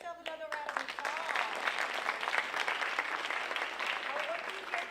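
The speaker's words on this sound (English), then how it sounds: "Give yourself another round of applause." Steady, dense applause from a large convocation audience fills the room throughout, with a few scattered voices and cheers mixed in.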